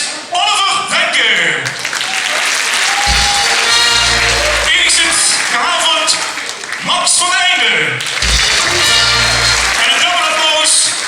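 An audience at a revue show opening in Gelaen breaks into loud, sustained applause and crowd noise in two waves, with an announcer's amplified voice talking over the clapping.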